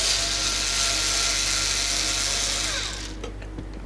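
Small power screwdriver backing screws out of a Betopper L1015 LED light bar, a close, steady whirring buzz for about three seconds that stops, followed by a few light clicks.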